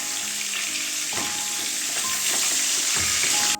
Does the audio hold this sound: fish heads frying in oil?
yes